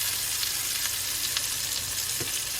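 Scallops searing in a hot pan, a continuous loud sizzle and crackle with faint scraping touches, no talking.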